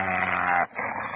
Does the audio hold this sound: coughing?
no